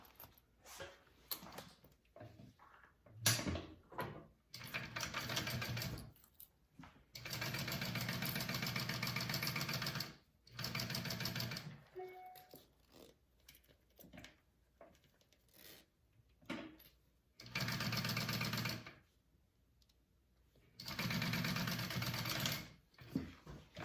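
Sewing machine basting pouch fabric at a narrow seam allowance, running in several steady bursts of stitching separated by quiet pauses, close and moderately loud.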